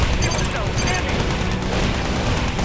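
Rapid Gatling cannon fire in the strategy game Yuri's Revenge, dense overlapping bursts of shots and impacts close and loud, with game battle noise layered throughout.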